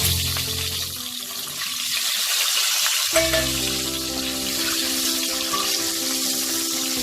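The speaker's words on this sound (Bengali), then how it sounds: "দিয়ে আমি ডিমগুলোকে ভেজে নেব" Steady hiss of eggs frying in hot oil, dense and continuous, with a brief clatter as something is moved in the pan partway through.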